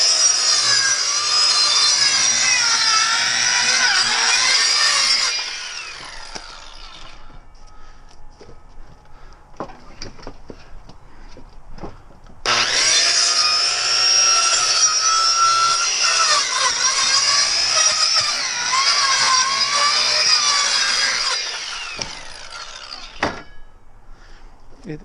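A Ryobi 13-amp 7-1/4 inch CSB125 circular saw cuts through wood in two loud, sustained passes of high whining buzz, separated by a quieter pause with light handling noises before the second cut winds down.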